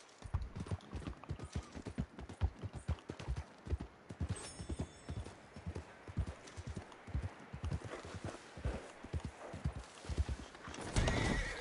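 Horse in Red Dead Redemption 2 galloping with rapid, rhythmic hoof clops, loud and close, broken by a whinnying neigh and a brief scuffle near the end.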